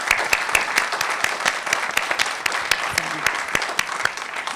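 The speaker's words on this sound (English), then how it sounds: "I'd like to give them a round of applause." A crowd at a mayoral and town council candidates forum breaks into steady, dense applause for the candidates. The clapping stays loud and sustained throughout, with no talk over it.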